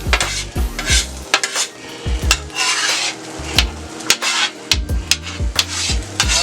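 Chorizo and eggs, about eight to ten of them, cooking in a pan while being stirred, with repeated scraping and tapping of a utensil against the pan over a steady background sizzle, close and fairly loud, no voices.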